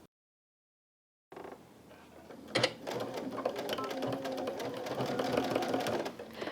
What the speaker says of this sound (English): I'm going to head to the machine and sew that with a 1/4 inch seam allowance